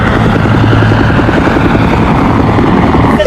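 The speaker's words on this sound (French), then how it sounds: "l'hélicoptère va pas nous lâcher, là, faut dérober" A helicopter hovers close overhead, its rotor thumping in a loud, continuous, rapid chop with a heavy engine drone beneath, with no voices.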